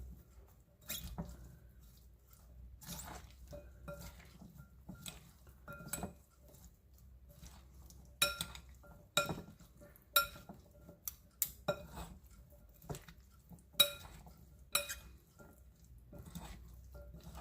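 Kidney bean salad being mixed in a bowl: soft scraping and an irregular run of light clinks and taps from a utensil against the bowl, fairly close and quiet, with no voices.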